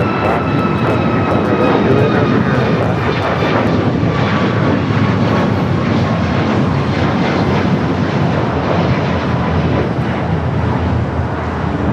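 An Air Canada Boeing 737 MAX 8 at LAX produces a loud, sustained jet engine roar with whining tones sliding gradually lower, heard close and alone with some wind buffeting.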